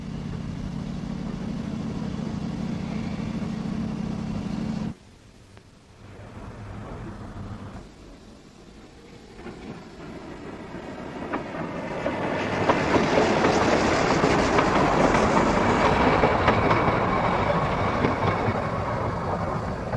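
Ffestiniog Railway narrow gauge steam locomotive on a Welsh line, first a low steady rumble, then a sudden cut to quiet, then a rising, roaring rush of the train passing close and staying loud.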